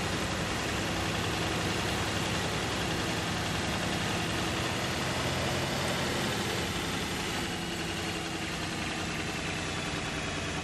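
Combine harvester engine in Farming Simulator 19, a steady, dense mechanical drone that continues evenly and loudly throughout, with no talk over it.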